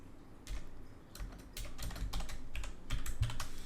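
Rapid keystrokes on a computer keyboard while entering footer text in an Excel spreadsheet, a string of soft, close clicks over a low steady background hum, with no speech.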